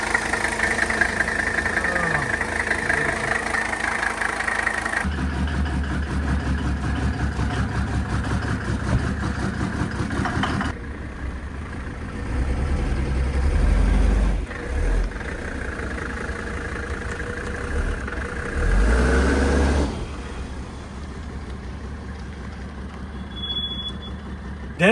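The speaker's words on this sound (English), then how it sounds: "fire up" A Mercedes-Benz diesel engine that had not run in a long time idles with a loud, steady clatter and rumble, rising in a few short revs before settling back.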